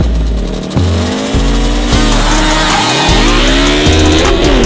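Quad fitted with an R6 motorcycle engine screaming through rapid gear changes in a drag race, loud and close, with rising revs cut by sharp shifts and another engine racing alongside.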